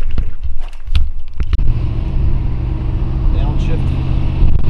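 Car engine running steadily in a tall-geared car on the road, a low continuous drone with a downshift about midway; a person talks over it early on, then the engine hums on alone.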